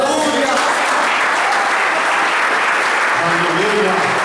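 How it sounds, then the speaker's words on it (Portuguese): A church congregation applauds steadily throughout, a dense continuous wash of clapping with a few voices rising faintly near the end. "Aplauda ao Senhor."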